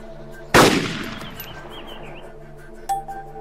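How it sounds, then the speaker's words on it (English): Sniper rifle in the ARMA 2: Operation Arrowhead combat game fires a single loud, sharp shot that rolls off into a fading echo, followed by a brief metallic clink. "Line up the crosshairs over the target and fire."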